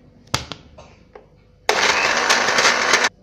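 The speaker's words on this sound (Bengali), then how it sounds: "লবণ দিয়ে ব্লেন্ড করে ফেলবেন" A kitchen blender whirs in one loud, steady burst of about a second and a half, grinding fresh coriander leaves with salt for a bhorta, preceded by a few soft clicks and knocks.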